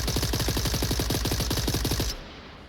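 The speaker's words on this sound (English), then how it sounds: "after hearing those close gunshots" Rapid gunfire rattles in a fast, regular burst of shots for about two seconds in a VR video game, then cuts off abruptly, leaving quiet background.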